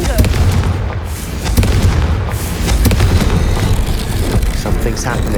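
In Hogwarts Legacy, a Confringo spell sets off loud, dense booming blasts and crackling bursts that carry on for several seconds, with a voice calling out over the noise.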